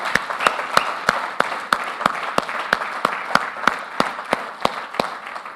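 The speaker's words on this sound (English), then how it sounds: "Let's give a big round of applause to Luke Nieuwenhuis." Audience applause at a leadership summit in India, a steady wash of many hands clapping with a few louder individual claps standing out, sustained and fairly loud.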